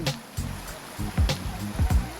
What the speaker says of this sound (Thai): น้ำก็จะไหลออกมาจากดินนะพี่น้อง